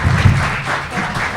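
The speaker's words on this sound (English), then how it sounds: "please, let's give them a round of applause" An audience applauds panelists at a women's suffrage event, a brief burst of dense clapping from a crowd.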